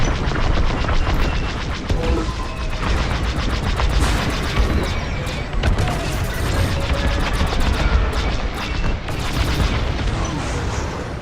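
Starfighter cannons rattle in Star Wars: Squadrons during a space dogfight against TIE fighters, a dense, continuous barrage of rapid laser fire and explosions layered over engine roar, loud and unbroken throughout.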